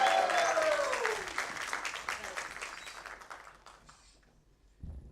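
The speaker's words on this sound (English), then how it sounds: "A louder round of applause." Applause fills the room at a stock market listing ceremony for Western Carriers India Limited, starting loud under a speaker's voice and gradually fading to scattered claps.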